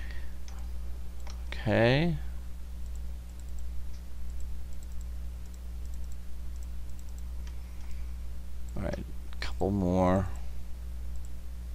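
Computer mouse clicks and double clicks during 3D modeling work, faint and sparse, with a person speaking briefly in between.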